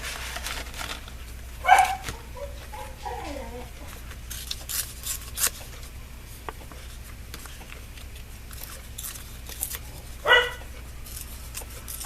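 A dog barking a couple of times, short bursts at the start and again near the end, somewhat distant against a quiet room with scattered small noises.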